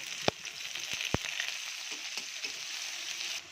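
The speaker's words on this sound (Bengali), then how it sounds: "গরম তেলে শুকনো মরিচ দিয়ে দিলাম" Dried chili, garlic and onion fry in hot oil with a soft, steady hiss. A couple of sharp pops or utensil clicks break through near the start. The sound is fairly faint, with no voices.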